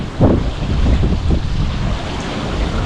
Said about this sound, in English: Apologies for the wind again.